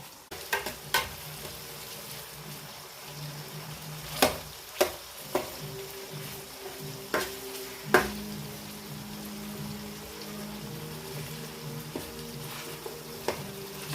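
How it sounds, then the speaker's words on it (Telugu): Onions and tomatoes fry in a pan as the base for a Nellore-style fish curry, making a steady close sizzle broken by occasional sharp clinks and scrapes of a stirring spoon, with no one talking. "ఇప్పుడు ఎర్రగడ్డలు బాగా వేగాయి. ఇప్పుడు టమాటా వేస్తాను."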